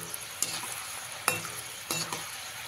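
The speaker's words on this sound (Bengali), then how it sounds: "লঙ্কাটাকেও কিছু সময় আমি ভেজে নেব।" Dry red chillies and peanuts fry in hot oil under a constant soft sizzle. Three sharper scraping clinks of a stirring spoon stand out, with no talking.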